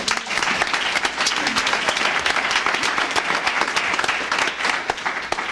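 An audience at a racial injustice truth-telling event applauds steadily, a dense, even wash of many hands clapping that holds throughout with no letup.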